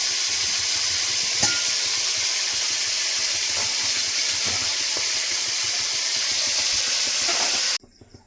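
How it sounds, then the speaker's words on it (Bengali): Raw papaya pieces frying in oil previously used for frying chicken give a steady, close sizzle and hiss that runs continuously for nearly eight seconds before cutting off abruptly, with occasional faint clinks and no talking. "চিকেন ভাজা তেলে পেঁপেগুলো ভেজে নেবো।"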